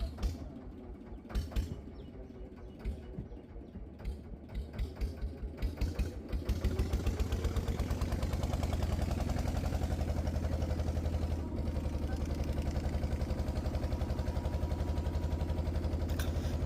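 A boat engine in the Sundarbans forest area starts with a rapid chugging pulse that settles into a steady, moderately loud running drone as the boat sets off, with no talking.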